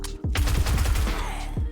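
Rapid bursts of SMG gunfire in the survival video game 7 Days To Die, about seven sharp shots in quick succession, loud and close, over a steady game soundscape with no talk.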